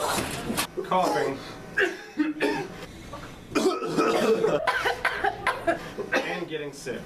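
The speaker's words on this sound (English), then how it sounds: "Coughing." Several short coughs in quick bursts, close and fairly loud, with a few breathy chuckle-like sounds between them.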